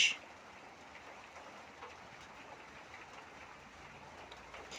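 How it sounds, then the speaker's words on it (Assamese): Heavy rain falling during a recording, a steady dense hiss that fills the background evenly throughout, fairly faint with no talking. "আজি বৰষুণ অত্যন্তভাৱে শব্দৰ কিছু প্ৰব্লেম হ'ব পাৰে"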